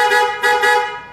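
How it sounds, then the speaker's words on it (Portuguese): A loud two-tone dual snail horn on a Renault Captur blares in three close honks, the last one held and fading out. "Buzina dupla, caracol."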